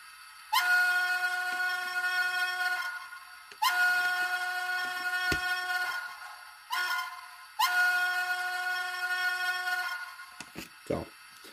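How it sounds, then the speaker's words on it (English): An N scale Baltimore & Ohio EM-1 model steam locomotive sounding its grade crossing whistle sequence: two long blasts, a short one, then a final long blast, clear and close with small clicks between. "these locomotives have a pre-programmed grade crossing sequence"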